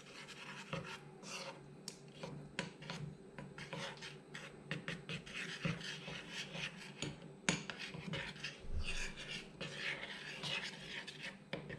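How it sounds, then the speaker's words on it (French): Melted chocolate being stirred with a little warm milk in a bowl, a steady run of soft scraping and rubbing strokes with occasional light clinks of utensil against the dish, close and alone. "on va ajouter un petit peu de lait tiède au chocolat. On va bien mélanger."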